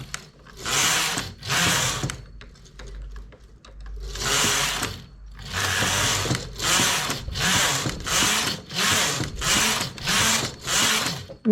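A flatbed knitting machine's carriage is pushed back and forth to knit rows for a round neckline, producing a steady series of loud, close rasping-clattering passes, each about a second long, with a short pause after the first two.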